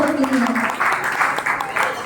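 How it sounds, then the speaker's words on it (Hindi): A short burst of clapping from an audience at a cultural program in a Jain temple hall, brief and moderately loud, with a voice speaking over the applause. "तालियां बजाइए"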